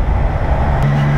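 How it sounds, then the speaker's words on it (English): Triumph Trident motorcycle engine with a short stubby exhaust, a steady low throaty drone that holds one even note, close and fairly loud throughout. "Engine's got a nice note to it, it's got a short stubby exhaust pipe"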